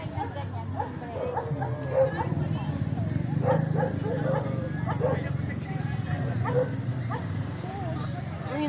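Dogs bark and yip outdoors, intermittent barks of moderate loudness mixed under steady, nearly continuous conversation.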